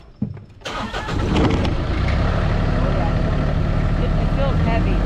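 A tractor's engine catches after a few clicks and settles into a loud, steady, close running rumble while firewood is stacked and cleared beneath trees.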